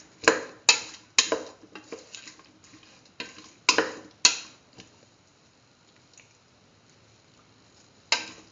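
Cauliflower and chayote being sauteed in a pan, with a handful of sharp ticks and scrapes from stirring in the first half, then a quiet stretch and one last clack near the end.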